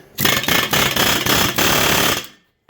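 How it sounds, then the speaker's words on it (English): An air chisel taps a rivet off a wheel stud on a mobile home brake drum. It gives one loud, close burst of rapid hammering lasting about two seconds, then stops abruptly. "we're just taking an air chisel and giving it a couple quick taps and trying to walk it up"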